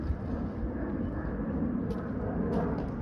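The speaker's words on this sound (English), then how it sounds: "when you're in this neighborhood, that's the sound you're gonna hear. You're gonna see airplanes all the time." An airplane passes over a neighbourhood during an evening walk in Thistletown, a low, steady rumble at moderate distance that swells slightly and carries under faint outdoor background noise.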